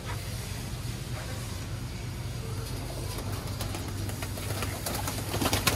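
Golden Ferozpuri pigeons coo in low, steady repeated calls close by, with a constant background hum and faint scattered chirps from other birds.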